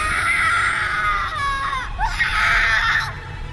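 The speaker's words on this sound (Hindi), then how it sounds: "उन आत्माओं ने एंडी को पूरी तरह से घेर लिया था और उसके बाद बस उसकी चीखें सुनाई दी।" A person surrounded by evil spirits in a horror story screams, shrill and sustained, in two long wailing cries with a brief break between them over a low ambient rumble.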